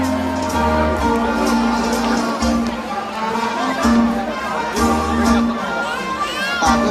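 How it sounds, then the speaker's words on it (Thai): A crowd claps and cheers for a contestant at a hill tribe beauty contest in Thailand during New Year 2015. The noise is continuous and lively, with shouts rising and falling over a steady tonal background. "ขอเสียงปรบมือให้กับเราสาวงามด้วยนะครับ"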